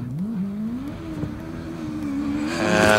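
Kawasaki-powered OMS 28 hillclimb car with a 750cc turbocharged engine revs on the start line, a steady rising engine note building louder toward the launch, close and alone.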